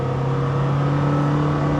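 Lamborghini Temerario engine revving up under load, a loud, steady, climbing mechanical drone heard from close by with no voices over it.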